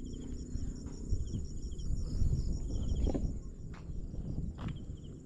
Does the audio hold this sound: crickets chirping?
yes